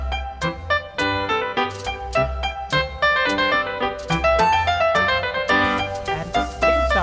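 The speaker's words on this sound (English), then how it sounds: "This is a short reverberation sound." A quick melodic musical passage with crisp, dry notes that stop short, with little lingering reverberation and a steady bass underneath.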